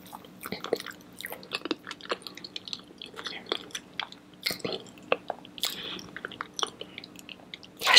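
Close, soft mouth sounds of someone eating fufu with palm nut (banga) soup: irregular wet chewing, smacking and squishy bites in a quiet room, with no talk.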